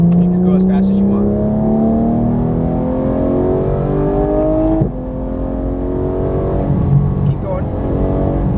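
A Porsche GT3 engine pulls hard on a race track, its pitch climbing smoothly through a long acceleration, then dropping briefly at a gear change before building again, loud and close.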